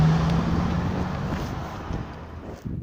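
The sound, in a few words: wind blowing on outdoor microphone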